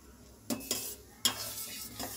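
Milk curdling in a pan for rasgulla is stirred with a spoon, giving a few distinct scraping strokes against the metal over a soft simmering background, fairly close and with no talking.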